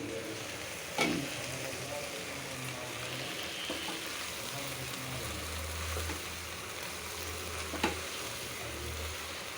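Dried puti fish curry with vegetables cooking in a pan, a continuous moderate sizzle with occasional sharp clinks of a spoon against the pan, no talking.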